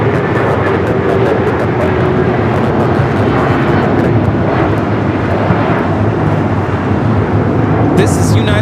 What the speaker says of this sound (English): 2127 taking off to Newark on the 757-200